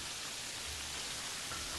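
Steady rain in the video game Terraria, a soft continuous hiss of falling drops, faint and even throughout with no talking.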